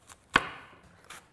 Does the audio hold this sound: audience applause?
no